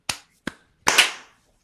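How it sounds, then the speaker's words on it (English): A live audience at a podcast recording claps together on a count: two sharp, isolated claps from a few people, then a louder unified clap that rings out briefly in the room. "So we'll clap after the 3."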